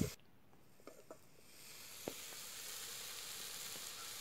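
Chili powder and coriander powder sizzle in a pan as the base for a Chettinad country chicken curry, a steady broadband hiss that swells after the first seconds with a few faint clicks of stirring, heard alone without voices.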